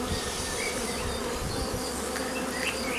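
Honey bees buzz at an open hive during an inspection, a dense, continuous, close swarm drone that holds steady throughout with no voices over it.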